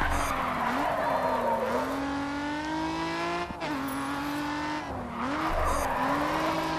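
Simulated car drifting in the racing game Grid 2, its engine holding a steady revving tone through a long slide with sustained tire squeal, briefly dipping near the middle before picking back up, loud and continuous.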